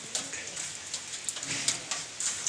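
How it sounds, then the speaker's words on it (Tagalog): Heavy rain pours down in Kalaka, a steady hiss of dense droplets with scattered sharper patters of drops hitting surfaces close by. "ang lakas ng ulan dito sa amin sa Kalaka"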